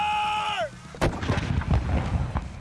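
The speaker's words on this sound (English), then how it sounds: "it's a .22 shell aimed down into the cannon, and you pull a cord and it snaps down right onto the .22 shell and fires it" A ceremonial cannon fired by a .22 shell goes off at a Virginia Tech football game. A loud, booming blast follows a falling horn-like tone, then crowd noise rumbles on afterward.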